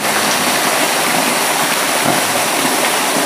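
A waterfall on a forest river roars steadily and loudly up close, a dense unbroken rush of falling water with no talking.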